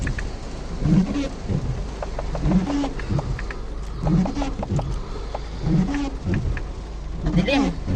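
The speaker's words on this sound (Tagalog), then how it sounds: "Ayan oh, lakas ng ulan oh." Heavy rain drums on a car during a drive in Doha, Qatar, a loud, steady wash of water with low rumble and regular swishing sweeps recurring every second or two.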